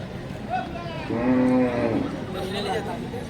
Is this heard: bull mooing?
yes